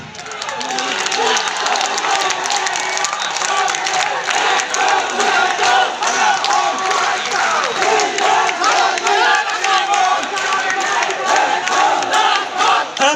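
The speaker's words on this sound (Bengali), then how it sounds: "অনুষ্ঠানের সম্মানিত প্রধান অতিথি এবং প্রধান বক্তাকে আমরা করতালির মাধ্যমে তাদেরকে করতালির মাধ্যমে স্বাগত জানাচ্ছি" A crowd applauding to welcome guests at an outdoor political rally: loud, sustained clapping and cheering from many people, dense and continuous, with voices mixed into the noise.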